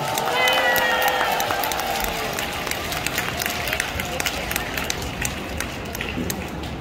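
A crowd applauds and cheers at a year-end citizens' concert in a Wonju gymnasium, with steady clapping and raised voices that stay fairly even and moderately loud throughout.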